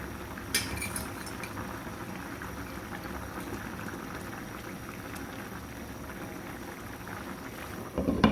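A pot of curry with flat beans bubbles and simmers steadily as tilapia fish is added, with a faint metallic clink early on and a louder clatter right at the end.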